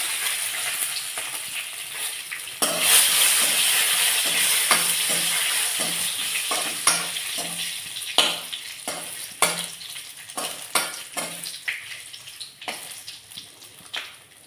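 Panch phoron, dried red chili and bay leaf sizzle in hot oil, a steady loud frying hiss broken by repeated clatters of stirring that grow more intermittent toward the end.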